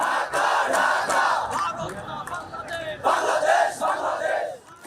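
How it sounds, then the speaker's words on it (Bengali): Inkilab Mancha protesters sitting before a police barricade chant slogans together, a loud crowd of voices rising in rhythmic surges and pauses. "সেখানেই বসে পড়েন ইনকিলাব মঞ্চের নেতাকর্মীরা, দিতে থাকেন নানা স্লোগান"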